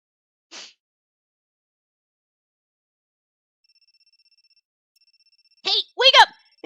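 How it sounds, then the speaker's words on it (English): A phone rings from beneath rubble in the horror game Amnesia, a thin electronic trill heard faintly between sharp bursts of sound, with a brief tone near the start and louder clustered rings at the end. "I can hear a phone ringing."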